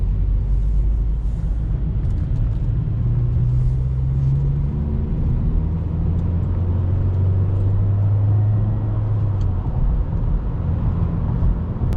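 Interior sound of a 9th-generation Honda Accord with a modified air intake driving along, a steady low engine drone and road rumble with a gently rising and falling tone.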